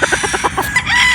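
A gamefowl rooster gives a quick series of rhythmic clucks, close and fairly loud, followed by a brief higher call.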